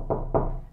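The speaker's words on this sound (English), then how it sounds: "If anyone's knocking on my door in the middle of a show, it's never good news." Two firm knocks on a door, played as a radio show sound effect, spaced evenly and heard close and clear with nothing else around them.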